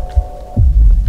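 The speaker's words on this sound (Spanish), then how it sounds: "yo aquí con los cascos es como si fuese un latido del corazón" Heavy heartbeat thumps from the horror video game Slenderman Shadow Game, 7th Street level: a few deep, loud low-frequency pulses spaced unevenly over a steady droning hum, with no voices.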